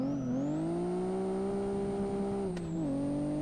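A modded car engine in the Live for Speed racing game holds a loud, steady high-revving drone that dips briefly near the end, with only a faint hint of a pop on the overrun.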